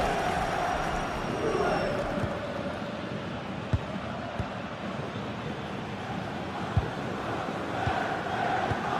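Tense football stadium crowd roaring in a sustained, broad wash of noise after a denied penalty, with occasional sharp thumps and a commentator's voice in the mix.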